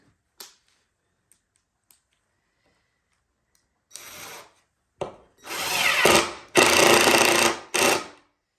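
A power drill drives a screw into a countersunk hole in wood for a heart-shaped rocking cradle, with a few faint clicks, then short whirring bursts building to two longer sustained runs and a final brief burst.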